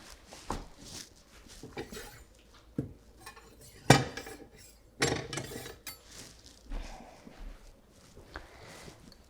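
Knife work on crispy chicken wraps on a kitchen board: scattered clatter and a few sharp knocks and crunchy cuts, moderately close, with dish and utensil sounds between and no talking.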